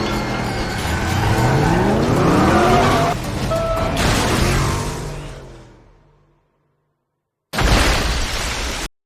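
Loud film car chase: an engine roars with sweeping pitch, tires skid and squeal, then a heavy crash into a road barrier with shattering debris, a brief silence, and a renewed burst of crashing noise.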